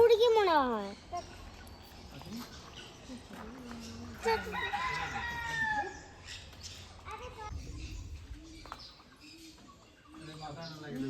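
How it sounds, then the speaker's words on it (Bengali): Birds in an aviary call out, including a loud crow-like call at the start and scattered chirps and clucks, while people talk nearby. "পুরো গোলটার ভিতরে নানা রকমের পাখি রয়েছে"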